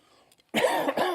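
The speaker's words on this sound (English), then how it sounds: "I'm sorry about my cough." A single harsh cough from a minister during a Sunday church service breaks out after a brief near-silence, loud and close, with a second rough burst following right after.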